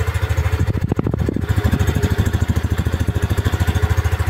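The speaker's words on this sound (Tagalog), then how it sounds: "Diba napakaswabe naman ang tahimik ng muffler." Yamaha Mio Aerox 155 V2 scooter engine idling with a quiet stock muffler, a steady close-up low putter with even rapid pulses throughout, no voices.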